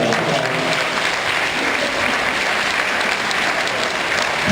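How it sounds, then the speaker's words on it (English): Steady, dense applause from an audience for contest winner Heather on stage, continuous clapping with a faint crowd murmur underneath. "let's give her a big round of applause"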